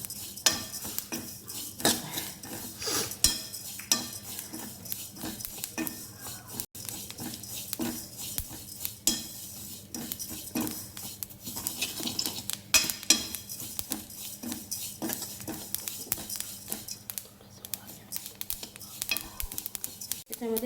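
Ingredients are dry-roasted in a pan and stirred steadily, a spoon scraping and tapping the metal in an uneven rhythm over a faint sizzle, close and quiet.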